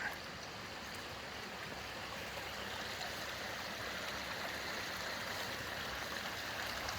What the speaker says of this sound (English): we got this nice little creek back here right behind the tent for some white noise for the night